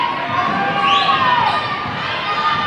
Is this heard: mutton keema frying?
no